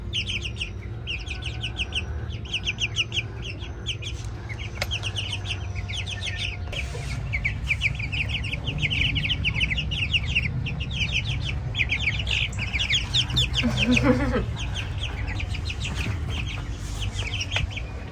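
Newly hatched chicks in a nursery coop peep and chirp continuously in a steady, busy chorus close by, with a low background hum underneath and no speech.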